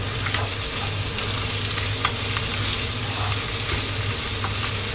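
Chili oil sizzles steadily in a pan of ginataang labong, bamboo shoots being cooked, with a close, continuous frying hiss and faint stirring clicks throughout, no voices.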